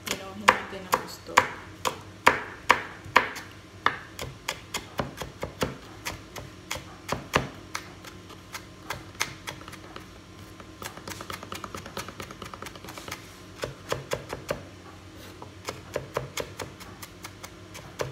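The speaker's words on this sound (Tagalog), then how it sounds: "Ito na guys yung nahiwa ko, sili at saka sibuyas." Knife chopping chili peppers and onion on a board in a home kitchen, a run of sharp close taps in quick bursts, some faster and some spaced, with a voice speaking at times between the cuts.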